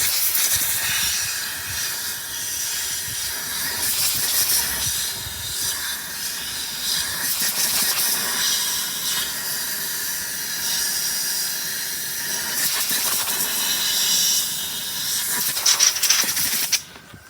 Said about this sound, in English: I'll take some compressed air and just blast out the fuel.